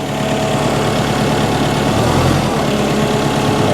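A truck engine running in four-wheel drive low range, a steady, loud low rumble and idle-like drone that holds evenly throughout with a slight swell in the bass partway through, no voices over it.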